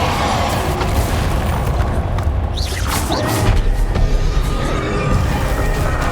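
The Confringo blasting spell explodes in the video game Hogwarts Legacy, a loud booming blast over dense, continuous battle noise, with a brief rising whoosh in the middle.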